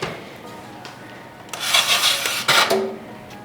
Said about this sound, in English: they are super crispy and I just dropped one. You hear that crunch?